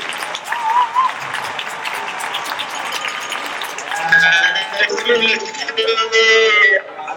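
A crowd at an outdoor Black Lives Matter rally in Vancouver applauding and cheering, a steady wash of claps and whoops that swells near the end, with a voice over a loudspeaker at first.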